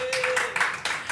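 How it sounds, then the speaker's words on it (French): Brief, moderate clapping from a live podcast audience welcoming a guest, a few bursts of hand claps over a low steady hum, no voices. "On peut l'applaudir."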